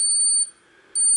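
An insulin pump updating to Control-IQ software gives off high, piercing electronic beeps: one long sustained tone, a brief gap, then another burst starting, close and clear with no talking.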